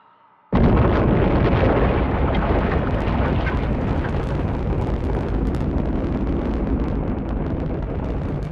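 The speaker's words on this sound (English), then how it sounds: "watch the rocket lift off" A space rocket launch roars to life after a brief quiet moment, a loud, continuous, broadband rumble with crackling bursts that holds steady and powerful for several seconds, heard from a beach viewing area.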